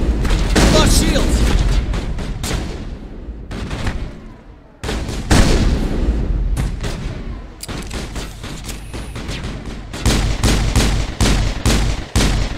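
Sci-fi weapons fire loudly in a Mass Effect firefight. Bursts of booming shots and rapid fire keep coming throughout with short gaps, and there are brief voice sounds mixed in.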